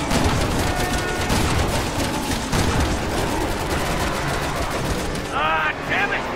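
Dense, continuous gunfire and explosions in the Resident Evil 6 video game, rapid overlapping shots forming a loud unbroken barrage, with a voice shouting near the end.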